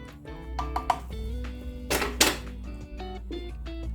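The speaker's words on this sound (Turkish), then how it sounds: "tahta kaşık olursa daha iyi tabi. Böyle karıştırıyorum." Wooden spoon stirring Turkish coffee in a pot, giving a few soft knocks and clinks against the vessel over a steady low hum, with a brief brighter scraping burst midway.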